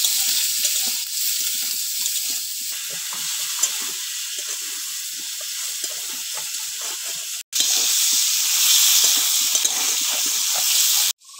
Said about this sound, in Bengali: লবণ আর হলুদ দিয়ে পটলটা ভেজে নেব